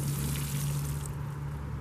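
Water poured onto a freshly planted broccoli transplant in a no-dig shredded hardwood bed, a steady close trickle and splash running unbroken throughout.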